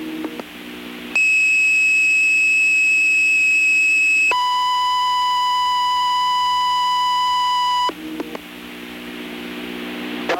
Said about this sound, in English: Dispatch, give me a fire alarm tone for emergency traffic.